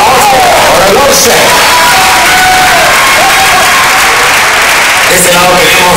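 A festival crowd applauds and cheers for a band member being introduced at a retro party, loud and continuous, with shouts rising over the clapping and a voice talking through it.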